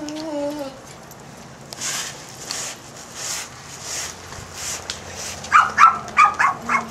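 Puppies give several short, sharp barks in a quick series near the end, after a stretch of softer scuffling and whining, fairly close.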